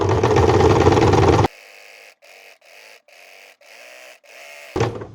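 A sewing machine top stitches a zigzag seam on a thinner material. A loud, dense burst of noise comes first, then the motor hums in short, evenly spaced runs with brief pauses between them.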